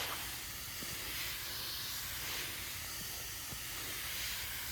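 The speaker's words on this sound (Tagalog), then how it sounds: "ganyan ang pag-spray natin guys, para yung mga white flies na yan, nagliliparan dyan ng mga puti na maliliit, mabulabog, lumayas" A sprayer hisses steadily and loudly over young cabbage plants outdoors, treating them against white flies, a continuous close spray with faint knocks underneath.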